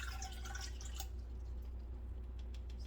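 Warm water poured into a stand mixer bowl: a short burst of splashing and dripping at first, then a quiet trickle against a low steady hum, close and soft.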